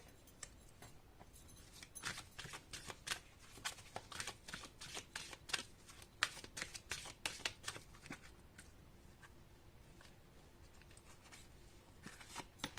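Tarot cards being shuffled in a series of soft, crisp riffling flicks and slaps, close and fairly quiet, with no one speaking.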